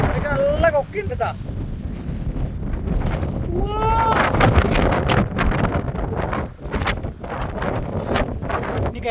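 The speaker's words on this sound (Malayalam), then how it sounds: "കാറ്റ് വെച്ചിട്ടാണ് നമ്മൾ ഈ പീക്ക് കയറുന്നത്" Strong wind buffets the microphone on a foggy grassy peak at Kurinjal in Karnataka's forests, a loud steady roar with gusts, while people talk and call out over it.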